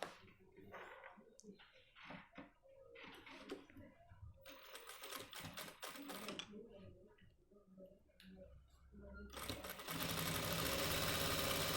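A sewing machine stitches a Nehru jacket in short, uneven runs, mixed with clicks and handling noise, before settling into a louder continuous whir at the end.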